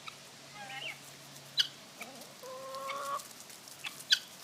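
Guinea fowl cluck and chirp around a big pumpkin outdoors, several short calls and sharp bursts scattered over a faint steady background, with more birds gathering nearby.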